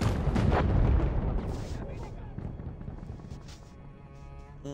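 Battlefield 1 gunfire in the Italian campaign chapter Avanti Savoia: dense, heavy booming shots and blasts crowd the opening seconds, then thin out into scattered, fainter reports over a lingering battlefield rumble.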